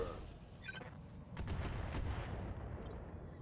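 RogueTech BattleTech LRM-5 missile launcher firing: a sustained, rumbling barrage of booms rising in the middle and holding steady, with a faint higher hiss near the end.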